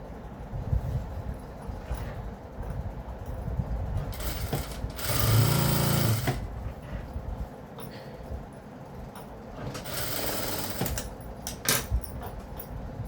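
Sewing machine stitching around the neckline of a cut work blouse, running in steady whirring bursts close by, with louder passages near the middle and toward the end.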